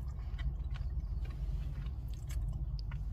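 Someone chews and bites into a Costco deli chicken salad sandwich up close, with soft, repeated mouth sounds and faint crunches over a low, steady background rumble.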